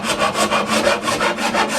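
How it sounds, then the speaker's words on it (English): A coarse cabinet rasp filing a wooden bow limb, rapid rhythmic back-and-forth strokes of about seven per second, close and loud, with no voices. "This is a very nice rasp, this, a cabinet rasp."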